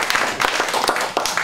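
A short burst of audience applause at an evening storytelling event, scattered hand claps from a modest crowd, fairly close and lively.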